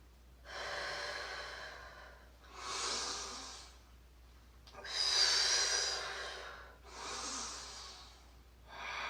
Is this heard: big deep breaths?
yes